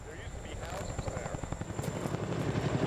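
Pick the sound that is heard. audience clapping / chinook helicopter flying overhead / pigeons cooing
chinook helicopter flying overhead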